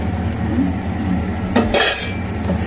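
A lid goes onto a pot of fish fritter curry with a short metallic clatter and ring, loud and close, heard over a steady low simmering background.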